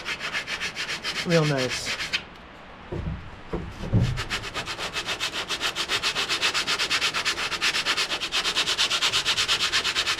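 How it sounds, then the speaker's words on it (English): Steady rhythmic sanding strokes with 100 grit sandpaper along the wooden gunwale edges of a canoe, rasping close and loud, with a brief pause and a spoken comment partway through. "And then we're just going to sand this, clean up these edges"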